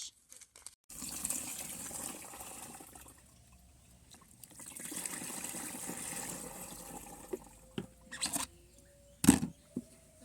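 Two liters of water are poured into a container to mix a pesticide spray for eggplants, making a faint, steady trickling wash with a pause in the middle, followed by a few louder splashes and knocks.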